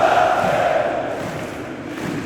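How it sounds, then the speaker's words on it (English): Basketball fans in a European arena keep up loud crowd noise after their team's loss, a sustained roar of voices and chants that fades slightly midway. "So even though they lost, the fans are still here making noise."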